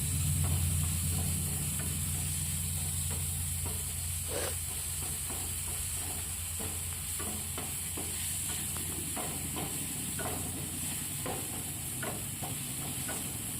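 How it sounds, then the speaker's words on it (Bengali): Prawn pieces fry lightly in a pan, giving a continuous moderate sizzle and hiss with scattered crackles and faint stirring scrapes, no voices. "চিংড়ি মাছটা একটু হালকা করে ফ্রাই করে নেব"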